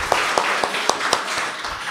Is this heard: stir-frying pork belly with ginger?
no